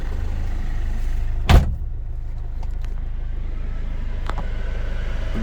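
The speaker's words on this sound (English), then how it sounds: "Turned on the ignition." A 2011 Hyundai Verna CRDI diesel car with the ignition just switched on: a low steady interior hum with one brief loud mechanical clunk near the start and a few faint clicks afterward.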